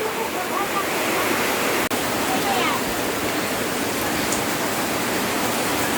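Heavy rain pours down in Santa Irene, a loud, continuous roaring hiss that fills the whole stretch with one brief sharp click partway through.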